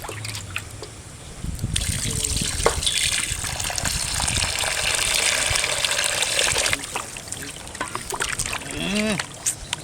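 Tap water gushes and splashes over raw mutton pieces being washed in a kitchen, a steady running stream with intermittent trickles and handling sounds, fairly close.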